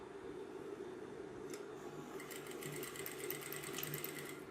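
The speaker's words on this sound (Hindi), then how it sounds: "इस तरीके से सीधा तिरछा टाँका लगा देना है।" A sewing machine runs steadily, stitching a diagonal seam across the corner of a kurti. The whirring motor hums throughout, joined in the second half by quick, rhythmic needle ticks.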